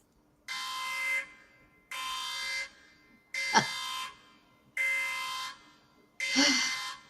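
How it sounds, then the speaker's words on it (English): A loud electronic alarm sounds in five evenly spaced, sustained buzzing blasts, each about a second long with short gaps between, harsh and tonal, with no talk over it. "So, of course, that's the alarm"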